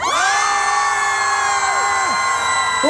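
A festival concert crowd cheers and shouts together in a loud, sustained roar lasting the whole stretch, with a few sliding whoops rising above the mass of voices.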